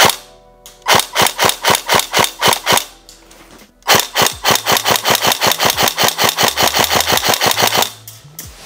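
Rapid regular gunshots firing tracer rounds, loud close sharp reports in a steady rhythm, one burst then a short pause and a second longer run, with a low engine-like hum underneath.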